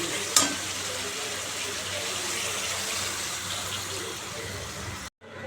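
Water poured into a hot pan while cooking fish curry hisses in a steady, broad sizzle close by, with a brief sharp burst near the start and a sudden drop to silence near the end.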